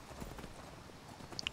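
Horse hooves clip-clopping in the video game Skyrim, a quick quiet series of hoof steps on the ground, faint and close, with no voices.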